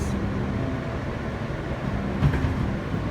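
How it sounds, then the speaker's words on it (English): A Manhattan-bound F local subway train rumbling steadily with a low, continuous drone and a brief clank near the end, with no voices. "This is a Manhattan-bound F local train."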